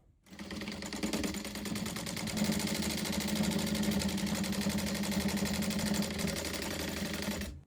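Sewing machine running steadily while stitching bias binding onto a quilted coat, a continuous close whirring hum of rapid needle strokes that holds for several seconds with no talking.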